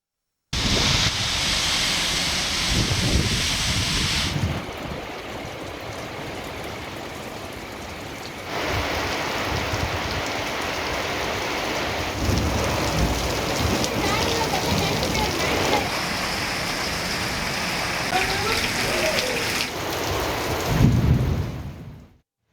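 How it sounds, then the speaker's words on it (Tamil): Heavy rain pours over Bhavani in Tamil Nadu's Erode district: a dense, steady roar of rainfall that runs continuously, with abrupt shifts in level and texture between cuts and a louder swell near the end. "ஈரோடு மாவட்டம் பவானி மற்றும் சுற்றுவட்டார பகுதிகளில் கனமழை பெய்ததால்"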